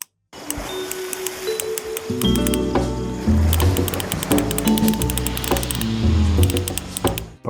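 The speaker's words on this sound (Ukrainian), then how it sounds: "72 зуба в тріщітки і звучить вона дуже приємно і класно" A fine 72-tooth Würth ratchet wrench clicks densely throughout, busy and bright, with a fine, rapid ratcheting texture and some underlying tonal hum.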